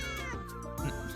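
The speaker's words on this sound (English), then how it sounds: "Why the cat noise?" A cat meows in the video game Stella Sora, a single drawn-out, clear meow with harmonic tones lasting about a second, close and alone without talk.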